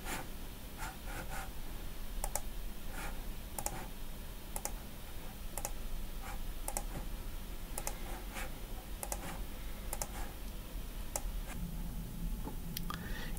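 Keys pressed one at a time on a computer keyboard, sharp isolated clicks spaced about every half second over a steady low room hum, fairly quiet and close, with no talking.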